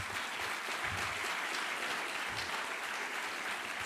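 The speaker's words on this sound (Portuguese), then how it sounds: "aplauda ao Senhor com força" A church congregation at a missionary congress claps together in sustained, even applause, a dense wash of handclaps lasting about four seconds, fairly distant and moderately quiet.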